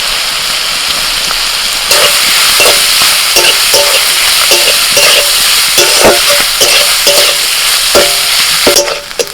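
Washed curry leaves hit hot oil, and the frying jumps to a loud, crackling sizzle that stays strong, with repeated spoon-stirring clicks and scrapes against the pan.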